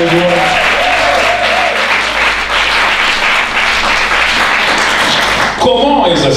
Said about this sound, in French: Si tu le crois, tu acclames très très fort pour le Seigneur